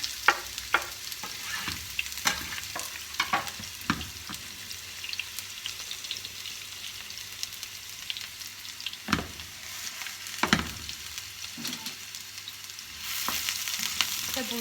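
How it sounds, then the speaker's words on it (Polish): Onion sizzling in olive oil in a frying pan, a steady crackling hiss broken by sharp spatters and stirring scrapes, growing louder and denser near the end. "Na patelnię wlewamy oliwę. Wrzucamy cebulę."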